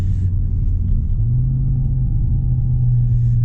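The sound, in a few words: 2019 Audi RS3 engine running with muffled stock exhaust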